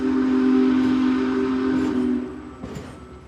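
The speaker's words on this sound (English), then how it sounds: "It appears the train is leaving on time." A steam train's whistle sounds in a long, steady tone, then fades as the train rumbles and clanks away.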